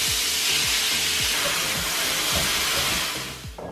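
Steam hisses loudly and steadily from a pressure cooker on a kitchen stove while chicken curry cooks, with faint low ticking underneath, then the hiss eases off near the end.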